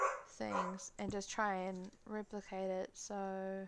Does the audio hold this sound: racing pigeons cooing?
no